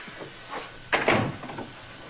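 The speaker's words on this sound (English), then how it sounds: "shut the door" An office door shut at close range, a single solid thump with a short rattle following a brief shuffle, heard alone without talk.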